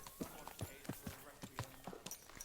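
Horse hooves clip-clop at a steady walking rhythm in the medieval Bohemian world of Kingdom Come: Deliverance II, moderately close, with faint game ambience behind.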